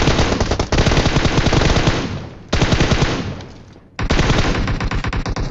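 Sustained automatic gunfire in the PUBG battle royale game near Pochinki, loud rapid bursts filling the clip with two brief pauses where the firing cuts out.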